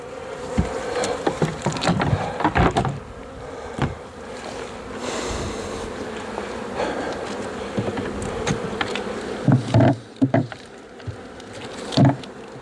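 Honey bees buzz steadily around a horizontal hive being prepared for winter, a close, continuous drone broken by occasional sharp knocks and bumps of hive handling.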